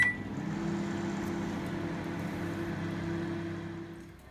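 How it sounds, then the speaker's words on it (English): A microwave oven hums steadily for several seconds, a low constant drone that fades out near the end. "So microwave this"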